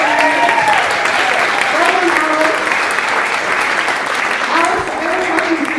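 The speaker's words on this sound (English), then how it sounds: "And can we just have another round of applause for our lady?" Audience applause for a young female jazz singer at a school holiday arts concert, steady sustained clapping filling the room for several seconds, with some voices and murmurs mixed in.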